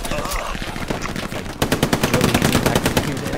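Rapid automatic gunfire from a video game battle, loud and dense, with a brief pause before a sharper, steady burst of evenly spaced shots; faint talk sits underneath.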